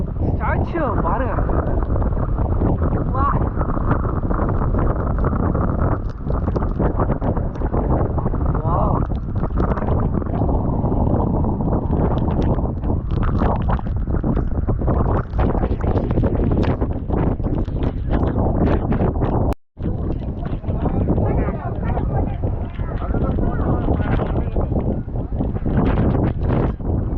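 Strong, steady wind roars across the microphone throughout at the Kanniyakumari coast near the Thiruvalluvar Statue, with rain and occasional voices underneath; a brief dropout near the end.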